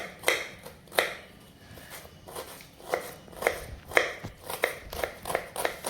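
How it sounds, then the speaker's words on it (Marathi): Knife finely chopping onion on a board for kanda poha: a run of about a dozen sharp, close taps, uneven at first then quickening into a steady rhythm, with no talking. "चला कांदा कट करून घेते."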